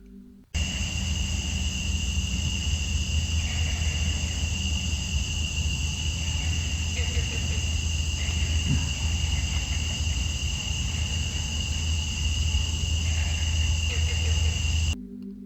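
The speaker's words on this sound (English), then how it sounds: "the insect and frog sounds at night were deafening" Insects and frogs chirp through a sweltering July night in Fouke, Arkansas. Shrill, steady trills drone on continuously with a low rumble underneath, and the sound cuts off at the very start and end.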